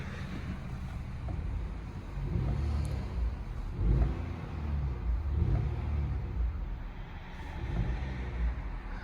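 A 2021 Acura TLX A-Spec idling with its engine running, a low, steady rumble with gentle swells, heard from inside the car amid faint wind-like noise, with no talking.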